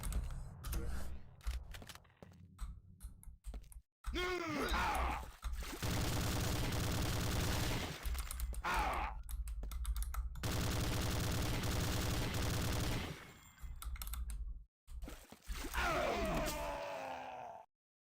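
Gunfire and an incoming airstrike in the shooter game Gloom: dense bursts of rapid automatic fire and booming blasts, broken by short silent gaps, with whooshing sweeps and explosions layered over the chaos.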